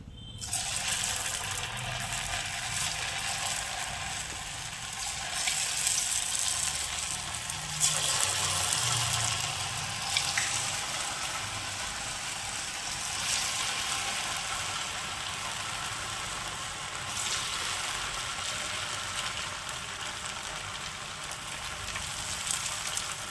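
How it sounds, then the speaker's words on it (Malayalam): Slices of pumpkin leaf dish frying in hot oil, a steady close sizzle and bubbling hiss running throughout with slight swells, no talk. "എണ്ണയിലിടാം"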